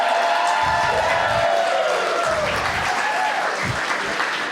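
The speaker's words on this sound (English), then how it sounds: "We'll give him a round of applause" A Nerd Nite audience claps and cheers to welcome a speaker, a dense, steady wash of applause with a few whoops, close and continuous throughout.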